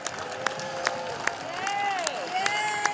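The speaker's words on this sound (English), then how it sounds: "One final applause" Fans lining the streets of Ozzy Osbourne's hometown applaud his funeral procession, a steady crowd wash with sharp periodic claps and whistles, heard under continuous talk.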